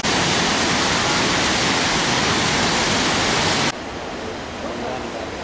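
A waterfall roars as a loud, dense, unbroken rush of falling water, dropping to a somewhat softer wash partway through.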